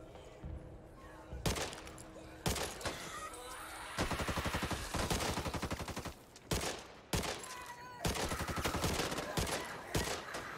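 Rapid gunfire bursts in the Back 4 Blood video game, repeated loud automatic volleys separated by short pauses, filling most of the span.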